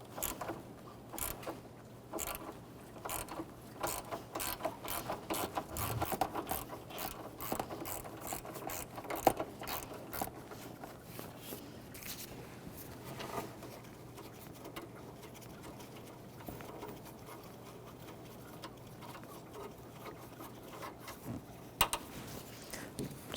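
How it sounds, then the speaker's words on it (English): Ratchet with a 10mm socket breaking loose the high side AC line at the condenser of a Nissan Frontier, bursts of rapid clicking ratchet strokes, close, separated by short quiet gaps. "disconnect the high side line that goes to the AC condenser, 10mm socket or wrench, and just break that free"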